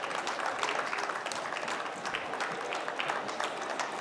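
A conference hall audience keeps clapping at a women-in-hospitality awards event in Bengaluru, producing a dense, steady wash of applause from many hands for about four seconds with no voices.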